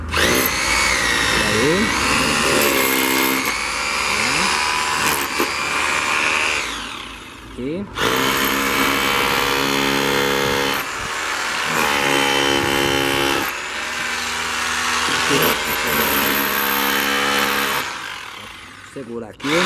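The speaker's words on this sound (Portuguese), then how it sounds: "O funcionamento desse martelete. Primeiro vou quebrar a pedra para vocês verem." A demolition hammer breaks stone in a shop demonstration, running in long loud stretches of rapid hammering with brief pauses between them. Someone briefly speaks during the pauses.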